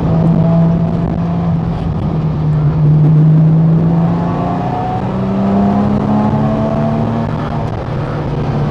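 Porsche Cayman Trophy race car on a track, engine droning loud and steady throughout with a rising tone as it accelerates, heard from inside the car.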